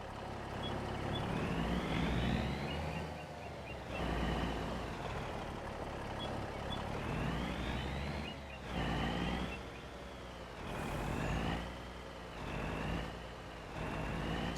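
A heavy truck drives through Farming Simulator 25 on a potato farm. The engine drones steadily and loudly, rising and falling in pitch as it changes gear or load, with no voices.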